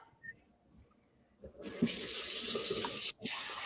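Tap water runs into a kitchen sink while food is rinsed during a cooking session, a steady broadband rush starting partway in after soft handling noises, with a brief gap before it resumes.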